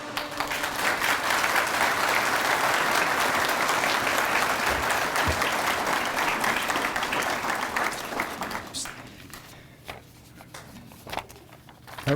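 A recruit class graduation ceremony audience breaks into loud, sustained applause that fills the room for several seconds. The clapping then thins out to scattered claps and a few footsteps.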